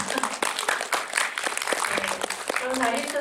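Audience applause after a guest talk at a film screening in the Korean Film Archive's basement cinematheque in Seoul, a 20th-anniversary Whispering Corridors screening, heard as a dense, steady burst of clapping mixed with voices.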